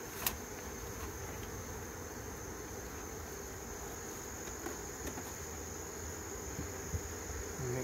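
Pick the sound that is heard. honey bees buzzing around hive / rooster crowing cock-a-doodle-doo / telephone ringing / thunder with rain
honey bees buzzing around hive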